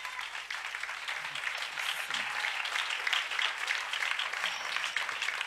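Crowd applauding steadily throughout, a dense wash of clapping from many hands, fairly distant with a low murmur of voices beneath.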